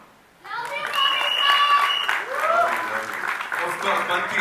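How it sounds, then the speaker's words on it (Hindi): Audience applause for Bobby Deol at an event for the series Ek Badnaam Aashram Season 3, rising suddenly into loud, sustained clapping with cheers and voices mixed in for about four seconds. "बॉबी देओल के लिए एक बार जोरदार तालियां"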